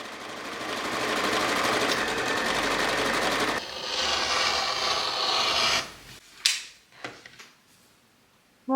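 A home sewing machine sews a pocket lining onto the side of a garment in a continuous buzzing run with a short break partway through. It then stops, followed by a few faint clicks and handling sounds.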